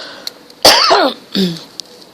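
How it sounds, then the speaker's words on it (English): Two harsh, loud coughs close to the microphone, a longer raspy one followed by a shorter one, with small clicks and quiet between. "I'm sorry, guys, that I'm coughing"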